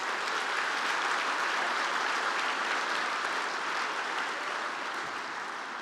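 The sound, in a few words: applause at induction ceremony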